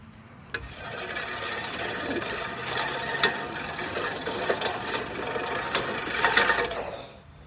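A lawn mower runs with a steady whirring, rasping drone at moderate distance, scattered with small clicks and knocks, ending as it cuts off; no one speaks.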